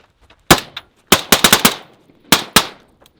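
A rifle fitted with a Surefire RC3 suppressor fires while the shooter moves, about eight sharp, loud reports coming singly and in a quick cluster, with short reverberant tails.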